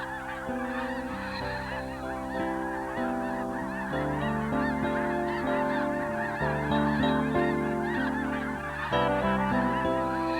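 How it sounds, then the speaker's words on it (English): A large flock of migrating snow geese lifts off from a wildlife refuge, a loud, continuous chorus of overlapping nasal honks with no voices over it. "the snow geese don't swing round to circle the refuge as they usually do on takeoff"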